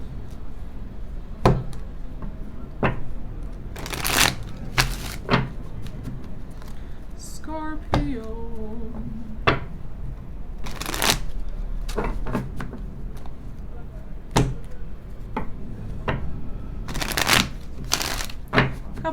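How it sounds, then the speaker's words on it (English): Tarot cards being shuffled by hand in a series of brisk riffling and flicking bursts, close up, with a person talking between and over the shuffles. "Couple more shuffles for you"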